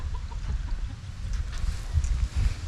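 Farm chickens cluck softly in the distance over a gusty low rumble of wind, with scattered faint calls and no talking.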